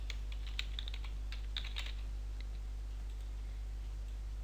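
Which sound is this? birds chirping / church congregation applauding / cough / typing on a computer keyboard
typing on a computer keyboard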